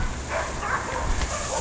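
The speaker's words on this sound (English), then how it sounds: "despite the barking dogs" Dogs barking outdoors on a hot day, a few muffled barks and yips at moderate distance rising over a steady background hiss.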